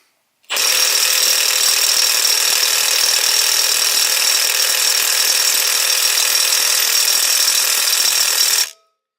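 A Milwaukee M12 FUEL 3/8-inch stubby impact wrench on setting 2, driving a 13/16 impact socket against nuts torqued to 90 foot-pounds, hammers in one loud, continuous rattling burst lasting about eight seconds, close up with no talk.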